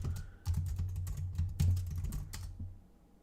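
Rapid typing on a computer keyboard, close and clear, with irregular bursts of key clicks and a few louder clacks, no voices over it.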